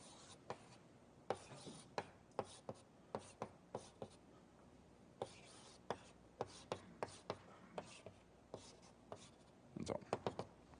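Chalk or marker writing on a board during a mathematics lecture: irregular sharp taps and short scratchy strokes, close and clear, with a brief busier flurry near the end.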